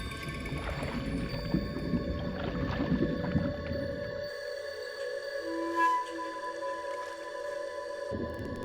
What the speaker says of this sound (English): The pink river dolphin.